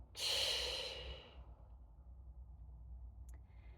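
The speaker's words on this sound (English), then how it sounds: "Deep breath in and out." A slow deep breath heard up close, one long airy exhale that fades out and leaves near silence.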